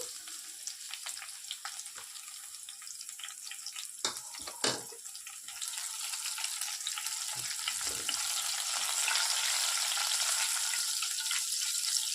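Dried red chillies and green chillies frying in oil in a pan for poha upma: a steady, fairly quiet hiss and crackle that grows a little louder and denser, with a few clinks of a spoon and no talking.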